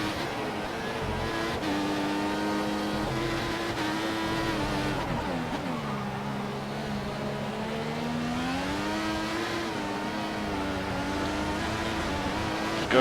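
A Formula One car in F1 2014 at the Brazilian Grand Prix, its engine whining steadily through rising pitch sweeps as it shifts up through the gears, loud and continuous with no talk.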